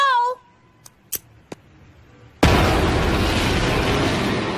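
Cartoon explosion effect: after a shouted voice and a few faint clicks, a sudden loud boom bursts into a sustained roaring rumble that carries on to the end.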